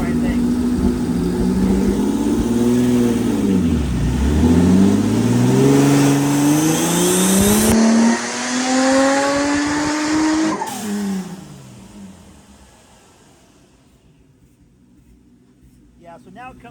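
A turbocharged Honda engine in a sand rail on a dyno pull rises from a low idle to a loud, climbing roar, peaks, then cuts off and winds down to near silence.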